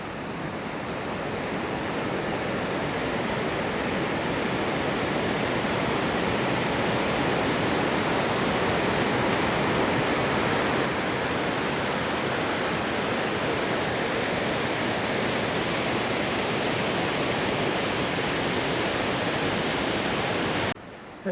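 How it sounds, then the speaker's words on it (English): Rushing water from a series of small waterfalls along a trail in Glacier National Park, a steady, loud, dense roar that continues unbroken for the whole stretch with no voices. "Yeah, it's a series of small waterfalls."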